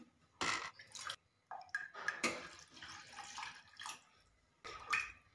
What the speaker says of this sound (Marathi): तर यामध्ये आपण अजून थोडं पाणी घालूया.